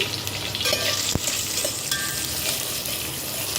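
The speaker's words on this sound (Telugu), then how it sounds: "వీటిని బ్రౌన్ కలర్లో ఫ్రై చేసుకోవాలండి" Thinly sliced onion and green chillies fry in oil until browning, giving a dense, steady sizzle with a sharp utensil knock near the start, close by and without talk.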